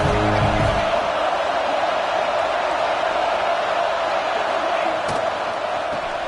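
A packed stadium crowd at a college football game keeps up a loud, unbroken roar for several seconds, with a single sharp bang near the end.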